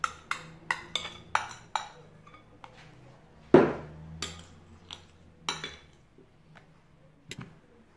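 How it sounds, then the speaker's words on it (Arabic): A utensil stirs pancake batter in a bowl from top to bottom, making steady, bright clinks against the bowl at a regular pace. One heavier knock lands midway, then lighter clinks follow. "كتخلطوا مزيان من الفوق للاسفل بهذا الشكل"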